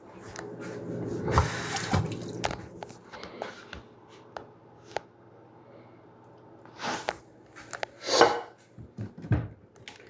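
Water runs and splashes from a tap in short bursts, with clattering handling noises and intermittent louder gushes, no speech.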